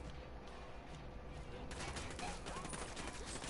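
Dense gunfire in the tactical shooter Ghost Recon Wildlands, squad weapons opening up together: quieter at first, then a loud, sustained fusillade of rapid overlapping shots that bursts in and fills the rest of the moment.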